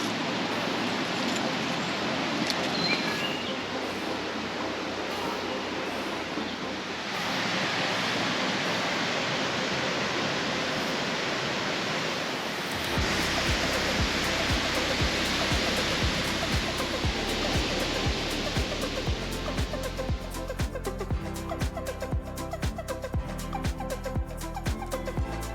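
Waterfall and rushing river in a remote mountain canyon in Mexico, a dense, continuous roar of churning water, loud and steady throughout with no voices.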